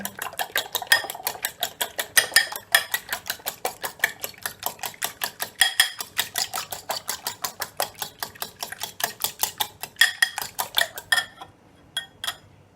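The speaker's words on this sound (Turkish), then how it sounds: "Şimdi baharatını koymadan önce bir çırpacağım onu." Four eggs whisked in a bowl: a rapid, steady train of close, sharp clicking strokes of the whisk against the bowl, keeping an even rhythm for around eleven seconds before a few last taps.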